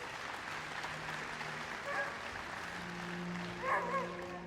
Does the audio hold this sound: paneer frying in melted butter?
no